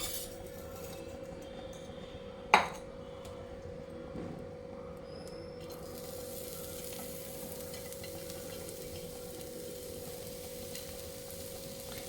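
Grated carrot topping laid onto a rava dosa on a hot pan, a steady soft sizzle with one sharp clack early on, close and fairly quiet.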